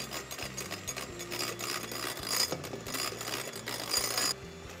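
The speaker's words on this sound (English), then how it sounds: "You're gonna whisk this for about three minutes until it about doubles in volume." Electric mixer whisking egg whites with sugar at medium speed for gluten-free chocolate cupcakes, a steady mechanical whir with rattling beaters against the bowl, continuous and close.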